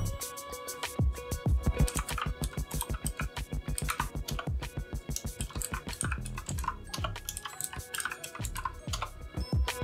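Rapid typing on a computer keyboard connected to a Raspberry Pi 4 running Open Media Vault, with dense, steady key clicks and occasional heavier strokes running close and loud throughout, with no talking.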